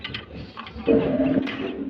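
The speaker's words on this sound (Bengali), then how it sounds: "এই যে এটা হলো মাদি কোয়েল পাখিটা" A female quail calls up close with a brief low, cooing note that swells for about half a second amid light rustling, with no talk.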